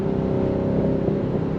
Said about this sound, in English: And even with the standard exhaust,